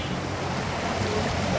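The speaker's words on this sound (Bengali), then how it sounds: "সেই সাগরের ঢেউ।" Sea waves in the middle of the Bay of Bengal heard from a moving boat, a continuous rough wash of water and wind rumble at steady loudness, with no distinct voices.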